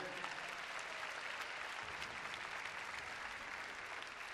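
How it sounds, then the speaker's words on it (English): An audience at an event for a therapeutic riding association applauds, a steady wash of many hands clapping at moderate volume from a distance, sustained evenly throughout without pause. "How about a round of applause there, ladies and gentlemen?"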